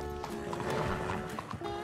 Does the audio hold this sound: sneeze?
no